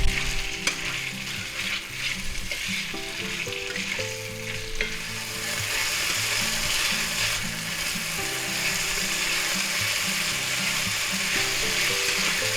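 Marinated beef sizzles loudly in a hot pan for a stir-fry with vegetables and mushrooms, a steady frying hiss broken by repeated scraping stirs throughout, close and continuous.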